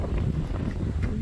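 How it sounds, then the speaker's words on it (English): Strong wind on an open Canadian farm in spring planting season buffets the microphone with a continuous loud low rumble and gusty roar throughout. "Way too windy."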